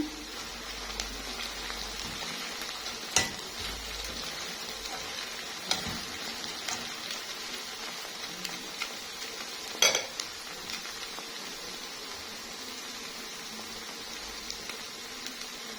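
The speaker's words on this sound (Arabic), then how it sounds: "على بال ما البصل بتاعنا يحمر" Onions frying in oil in a pot for one-pot Egyptian koshari, with a steady soft sizzle, occasional stirring scrapes and a few sharp clinks of a utensil against the pot, no talking.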